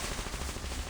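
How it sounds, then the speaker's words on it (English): Gunfire in the video game Reverse 1999, a short, dense, continuous rattle of shots filling the moment at fairly low volume with no talking. "Gunfire rattles above them"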